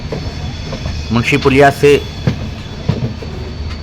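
Intercity train 12180 rolls into Lucknow Junction, a steady rumble of carriages with faint rail clatter running throughout while someone speaks over it near the middle.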